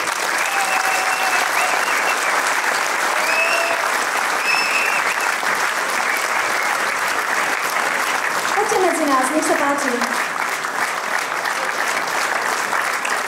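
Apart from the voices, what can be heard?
audience applause welcoming former ensemble leaders on stage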